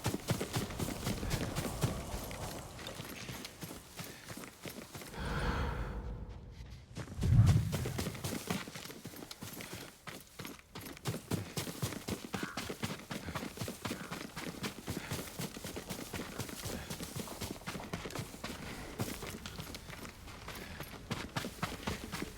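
Yuriko's horse in the Ghost of Tsushima video game sends out a long run of rhythmic hoofbeats, steady clip-clop going on for many seconds with a brief muffled lull and a thud near the middle.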